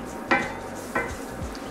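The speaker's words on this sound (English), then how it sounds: "we just want to stir that in the pan and just cook it off for about a minute or so" A spoon stirs plain flour and spices through a pan in two short scraping strokes near the start and middle, over a faint low sizzle, with no talking.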